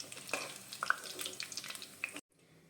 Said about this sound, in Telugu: ఒక 2 minutes హై ఫ్లేమ్లో వేయించి తీసేయాలి